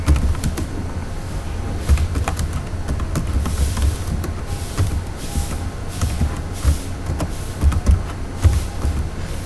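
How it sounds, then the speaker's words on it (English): Computer keyboard typing, a steady run of small clicks over a low background hum, fairly close and with no voices. "So let's type something."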